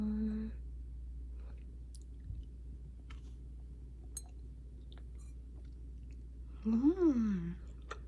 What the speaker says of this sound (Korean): 빵 어니스타 말차 타르트 잘 먹겠습니다.